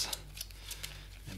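Kingdom Death Monster hunt event cards are shuffled in a quick, soft riffle of papery snaps and flutters close by, lasting only a moment.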